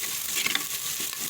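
Chopped garlic in hot oil sizzles and crackles steadily in a pan, a short, fairly quiet burst of frying with a light stirring scrape.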